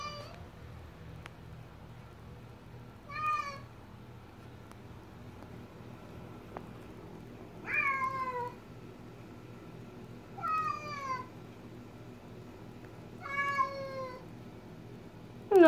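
A cat meows four or five times, short rising-and-falling calls spaced a few seconds apart in a quiet room, with a faint low hum underneath.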